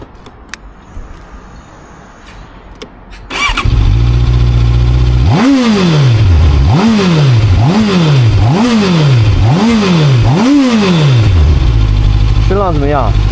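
A QJMotor Sai 800 motorcycle engine starts after a quiet moment, settles into a loud idle, then revs sharply five or six times in rising and falling sweeps before dropping back to idle, recorded up close.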